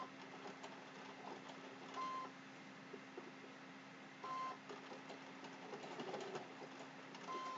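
A sewing machine stitches appliqué onto a Halloween placemat, running with a steady mechanical whir that swells briefly at a few points. Short beeps sound between the runs.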